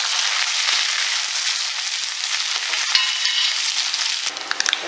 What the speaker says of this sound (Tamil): கடுகு நல்லா பொரிஞ்சிட்டு ஒரு 2 வரமிளகாவும் கொஞ்சம் கருவேப்பிலையும்